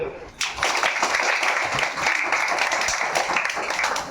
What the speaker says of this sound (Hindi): अभी ताली बजाओ